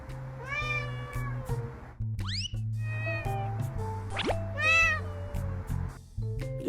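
A cat meows repeatedly to wake its owner, with several close, insistent meows and one rising chirp over a low steady background hum, and no talk.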